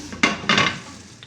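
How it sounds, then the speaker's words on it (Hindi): A pressure cooker lid is set down and closed while keema cooks, giving two close metallic clanks about a quarter second apart, followed by a faint tap, with no talking. "अब मैं कुकर का ढक्कन बंद कर दूँगी"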